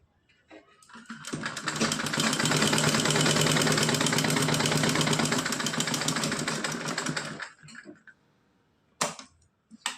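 A sewing machine whirs steadily for about six seconds while stitching a doll's night dress, close and fairly loud, then stops, followed by a few handling knocks.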